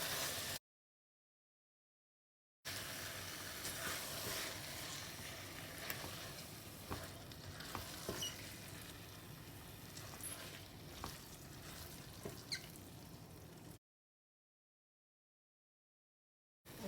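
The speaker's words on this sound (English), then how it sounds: "Now I'm going to add the rice. Add in the rice. Just stir in to combine." Cooked rice is stirred into spicy prawn biryani in a pan, giving a faint, steady sizzle with soft scraping and clinks of the spoon, close, between two stretches of silence and without talk.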